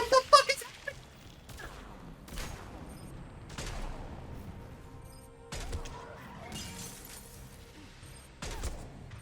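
Gunfire from Mass Effect 3 on Insanity difficulty, fired over rocks: scattered sharp shots and short bursts separated by quieter gaps, moderately loud over a low game background.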